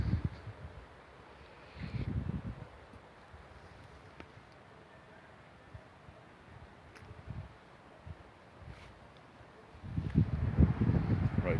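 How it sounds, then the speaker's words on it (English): Outdoor wind buffets the microphone in low, rumbling gusts, a short burst near the start and another soon after, then a quieter stretch before a longer, louder surge at the end over a steady faint hiss. "I'll try and get out of the wind."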